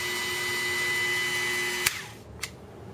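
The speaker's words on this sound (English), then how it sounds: "Turn Dremel on." A Dremel rotary tool runs with a steady, high, whining buzz and then switches off with a click. A short, sharp tap follows in the quiet afterward.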